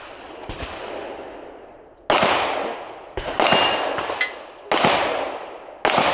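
Pistol shots ringing off steel targets in a Steel Challenge shooting competition, a string of loud, sharp cracks, each followed by a metallic ring and decay, spaced about a second apart outdoors.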